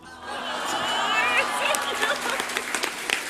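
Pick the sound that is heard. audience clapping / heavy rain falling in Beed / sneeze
audience clapping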